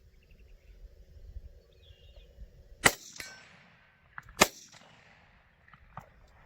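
A Chinese Type 56 SKS rifle with a drum magazine fires two sharp outdoor shots a couple of seconds apart, with faint insects and birds in the background between them.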